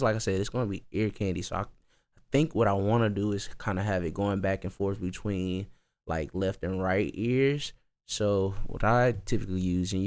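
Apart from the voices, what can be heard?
None of the usual background noises is heard.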